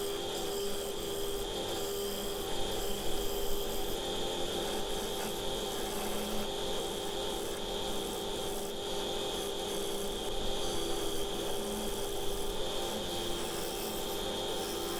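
Wood lathe hollowing a sycamore bowl, a steady scraping rub over a constant motor hum, even and moderately faint throughout with no talk.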